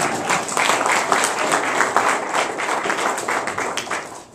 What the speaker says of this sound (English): now the applause for Executive Mark